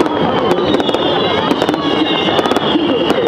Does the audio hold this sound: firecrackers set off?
yes